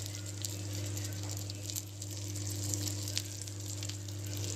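King fish pieces frying in green masala in a pan on a stove, a steady quiet sizzle with light spattering pops over a low constant hum.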